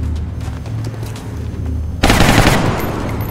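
Burst of automatic gunfire from the video game XCOM erupts loud and dense in the second half, following a rumbling in-game ambience with a low drone.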